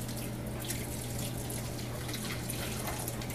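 Water poured slowly over mashed grains during sparging for a home-brew beer kit in a kitchen, a steady soft trickling and splashing that runs continuously beneath a low constant hum, with no talking.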